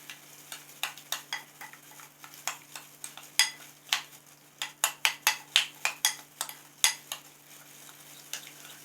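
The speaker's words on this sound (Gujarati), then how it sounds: "હવે આપણે આને બરાબર મિક્સ કરી લઈશું." A spoon scraping and tapping in a bowl while spice paste for chicken lollipop is stirred and mixed, a steady run of close, crisp clinks and scrapes with no talking.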